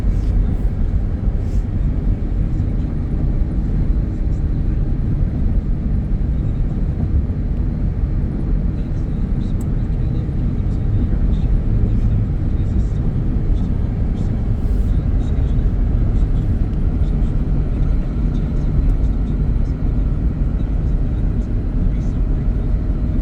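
Heard from inside the cabin, a 2006 Chevy Equinox climbs a hill with a steady low engine and road rumble that holds even and unbroken the whole way.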